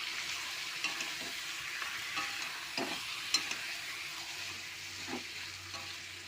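A paste of ginger, garlic, green chilli and onion sizzles and fries in a pan while being stirred, a steady close frying hiss with occasional scrapes and soft knocks of the spoon.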